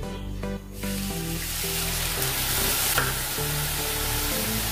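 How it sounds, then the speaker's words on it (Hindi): Milk hits a hot pan of roasted milk powder and sizzles loudly, a dense continuous frying hiss with stirring scrapes and a steady hum underneath, no voices. "अभी इसमें डालेंगे दूध"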